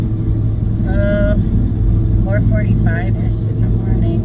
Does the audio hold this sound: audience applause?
no